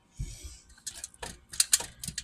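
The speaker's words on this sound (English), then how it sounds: "so I cut the roll" A knife saws through a bread roll in a few crisp, scratchy crunches close by, with short irregular bursts and brief pauses between strokes.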